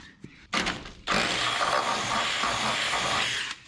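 A power drill boring a 1/2 inch hole, a couple of short starts and then a steady, loud, continuous grinding whine up close for about two and a half seconds before it stops.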